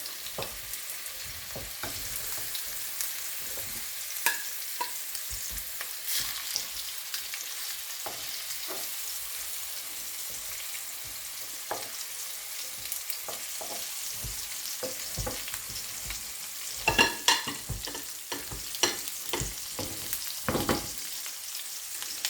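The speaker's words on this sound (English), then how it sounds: "You only want to fry the fish about 3 minutes each side" Rohu fish fries in a hot pan with a steady, close crackling sizzle. Sharp pops and spits break through it across the whole stretch, with a denser burst of crackles near the end.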